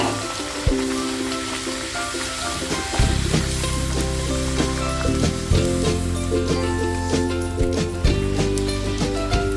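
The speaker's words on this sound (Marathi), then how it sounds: "आता पुऱ्या सोडून घेऊया." Puri dough fries in hot oil over a low flame with a bubbling sizzle. Recurring clanks and scrapes sound close and loud over the frying.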